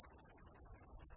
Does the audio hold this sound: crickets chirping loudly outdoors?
yes